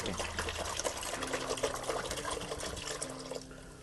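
Water poured from a container into a mixing vessel to make an organic liquid plant fertilizer, a steady gushing splash that tapers off near the end, with faint low hum beneath.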